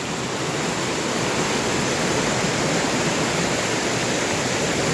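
Creek rushing beside a national forest campground at DeSoto Falls, a constant broadband wash of flowing water, close and steady throughout with no voices.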